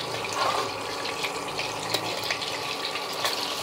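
A large whole piece of paneer fries in hot oil in a pan, making a continuous close hiss and crackle that stays even throughout, with no talking.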